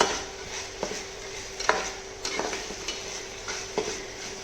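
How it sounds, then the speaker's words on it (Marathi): Ginger garlic paste sautéing in oil with onions in a pan, a steady soft sizzle broken by repeated sharp metallic clinks of a spoon stirring against the pan. "अद्रक लसूणची पेस्ट देखील घालायची आहे आपण, आणि व्यवस्थित अशी ती देखील याच्यावरती परतून घ्यायची आहे तेलामध्ये कांद्यासोबत"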